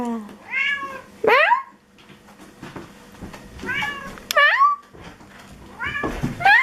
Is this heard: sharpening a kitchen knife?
no